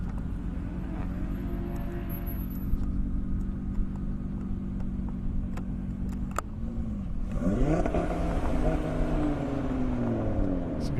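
An Audi RS3 drag racing car at an airport airstrip idles with a steady low engine drone, then revs with sweeping rising tones near the end, with no talk.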